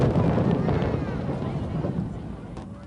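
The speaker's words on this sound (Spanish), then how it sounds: "Enseguida, los fuegos artificiales devolvían a la ciudad el ambiente de fiesta." Fireworks over Hong Kong during a night festival rumble and crackle continuously at a distance, a dense boom-filled wash that slowly fades, with no clear speech.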